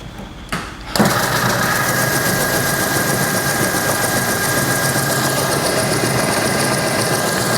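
A Snowie 2015 block ice shaver runs continuously at full speed after starting up, a steady loud mechanical motor drone with a grinding buzz that holds evenly throughout.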